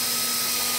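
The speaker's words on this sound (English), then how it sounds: "I'm going to go ahead and drill the rest of the holes from the back side." A power drill whines steadily as it bores holes in aircraft sheet metal. The high, constant motor tone is close and loud and runs without a break, with no voices present.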